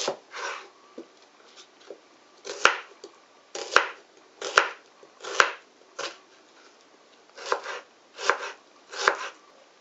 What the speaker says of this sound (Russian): режу лук.